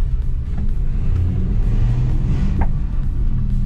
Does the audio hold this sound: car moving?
yes